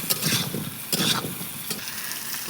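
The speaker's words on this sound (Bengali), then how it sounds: "এবার আমি ওই পটল আলুটা দিয়ে দেব। সুন্দর করে কষাই করে নেব।" Potol (pointed gourd) and potato pieces frying with spices in a pan, a steady close sizzle broken by repeated scraping stirs of a spatula, with no talking.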